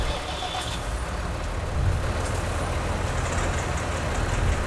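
Several Ford tractors in Farming Simulator run steadily while pumping water from a pond, giving a loud, continuous engine drone with no break.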